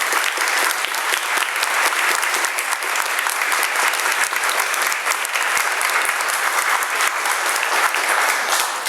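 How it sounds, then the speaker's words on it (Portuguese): An audience at a talk on the rights of nature and alternatives to development gives Ailton Krenak a loud round of applause, dense sustained clapping for about nine seconds. "peço uma salva de palmas para o Ailton Krenak."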